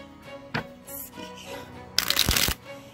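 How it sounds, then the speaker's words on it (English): A Rider-Waite tarot deck is shuffled, a few soft flicks and slides building into a quick riffling burst near the end, close up and alone. "clarify those with the Rider-Waite tarot deck now. We'll just give these a few shuffles here"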